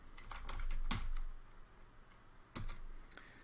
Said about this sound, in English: And to do that, we type in umount.